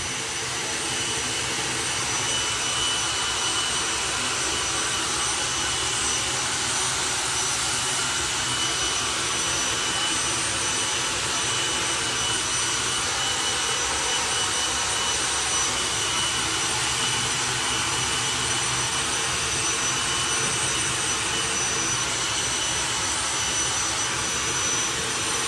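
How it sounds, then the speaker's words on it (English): Jet engine of a Chevy Lumina bodied jet funny car at a drag racing event, roaring loud and steady with a broad, sustained whine and rush that holds unbroken throughout. "You hear the jet engine start."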